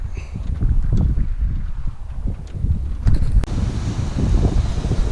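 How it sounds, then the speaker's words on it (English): Steady wind buffeting a microphone, a low rumbling roar that continues throughout with a few brief knocks and clicks. "It's pretty windy right now."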